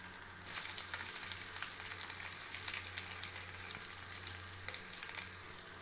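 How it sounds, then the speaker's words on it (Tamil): Eggs frying in oil in a pan for an egg masala gravy, a steady dense sizzle with soft crackles running throughout at moderate level, no voices. "ஒரு 2 நிமிஷம் ஃப்ரை பண்ணிக்கலாங்க."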